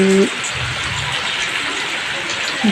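Steady monsoon downpour hisses evenly throughout, a dense wash of rain with faint brief tones near the start and end.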